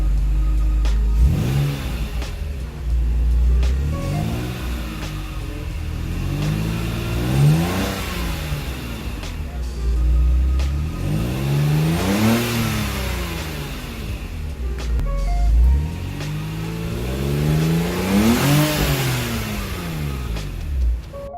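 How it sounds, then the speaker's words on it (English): A BMW Z3 is revved repeatedly, the exhaust rising and falling in about five distinct swells with a low idle rumble between them, loud and close with no voices. "Here's a little short exhaust clip for you guys."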